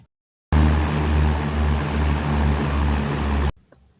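A loud, steady drone of a troop-carrying airplane in night flight, with a deep pulsing engine hum that starts abruptly, holds for about three seconds, then cuts off.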